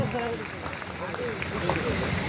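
A crowd at an employment and skills fair applauds, a fairly faint but continuous wash of clapping with a voice speaking over it throughout.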